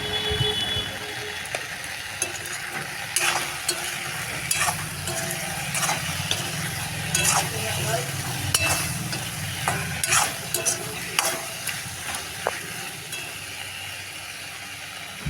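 Apple chutney being stirred in a pan after salt and turmeric go in, with repeated scraping and clinking strokes of a spoon over a soft sizzle, in a steady rhythm and without speech.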